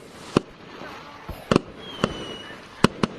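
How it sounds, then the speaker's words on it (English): Fireworks in the Gorilla Tag VR game pop in sharp, separate bangs, about six bursts at uneven intervals over a faint steady hiss. "I found the fireworks are going off"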